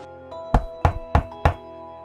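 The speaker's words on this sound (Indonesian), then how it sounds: "dia mendengar suara ketukan di pintu posnya" Knocking on a door, four evenly spaced solid thuds close up over a faint steady hum, with a softer tap before them.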